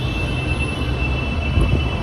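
Metro train running, a loud, steady rumble with a constant high electrical whine on top and a slight bump in the low roar near the end, heard from close by with no talk.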